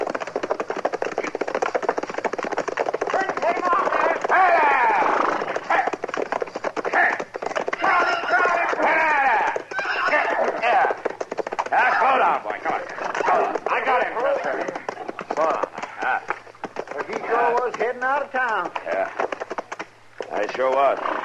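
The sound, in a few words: runaway horse galloping and neighing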